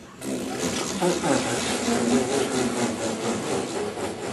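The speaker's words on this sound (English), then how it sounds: "Buzz your lips, put your hands on your diaphragm, and just go ha ha ha ha ha ha." Buzzing lips pulse in steady rhythmic bursts driven from the diaphragm during a didgeridoo breathing exercise, a continuous close rasping drone lasting several seconds.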